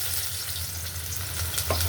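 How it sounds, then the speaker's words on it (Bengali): Onions fry in hot oil in a wok, giving a close, steady sizzling hiss for a couple of seconds with no talking. "চুলায় কড়াইতে তেল বসাই দিছে এখন দিয়ে দিতেছি পেঁয়াজ"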